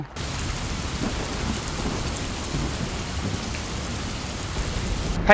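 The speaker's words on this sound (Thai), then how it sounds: "ถ่ายอยู่ฝนตกครับ" Rain pours steadily outdoors, making a loud, even hiss of drops with a low rumble beneath, constant from start to finish and with no voices.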